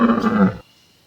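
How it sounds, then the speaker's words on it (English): A camel gives a single short, loud guttural groan that cuts off abruptly, leaving silence. "Camel."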